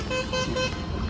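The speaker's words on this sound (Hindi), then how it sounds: "यहीं से रोज़ हॉर्न की आवाज़ सुनना" A car horn blares steadily for about a second, loud and close, over a low rumble of road traffic outside a college campus in Bhopal.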